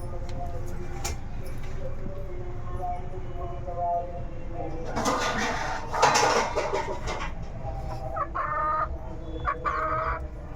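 Hens cluck and chatter faintly in the background, joined by a brief clatter of pots and dishes nearby.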